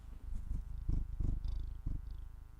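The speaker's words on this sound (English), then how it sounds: "Purr into the microphone." A cat purrs in rhythmic breathy bursts right against a close microphone, a low rumble with a soft faint background hum.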